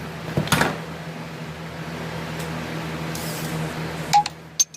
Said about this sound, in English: Sorry for the text message or notification.